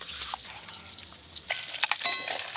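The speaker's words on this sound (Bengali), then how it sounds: "ছোট মাছ আবার খুব বেশি লাল লাল করে ভাজতে হয় না, একটু হালকা করে ভাজলেই হয়ে যায়" Small fish fry lightly in a pan, a soft steady sizzle with occasional stirring scrapes and clinks near the end, no voices.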